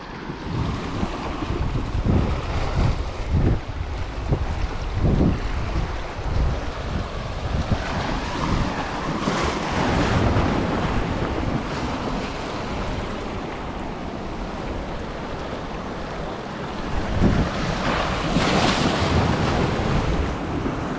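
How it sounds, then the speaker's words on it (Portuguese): Ocean waves surge and break steadily on a beach at Praia do Pontal in Arraial do Cabo, Brazil, with wind buffeting the microphone throughout, a loud continuous wash that swells in louder pulses near the end. "E tá dando as ondas lá"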